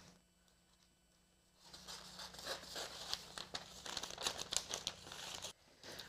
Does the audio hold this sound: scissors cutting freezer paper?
yes